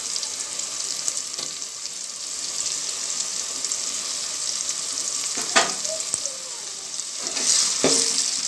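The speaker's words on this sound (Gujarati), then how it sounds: "હવે આપણે એમાં લસણ મરચાંની પેસ્ટ નાખીશું।" Garlic and green chilli paste frying in a pan for a green moong curry, a constant bright sizzle close by with a few sharp scrapes of a spoon, no voices.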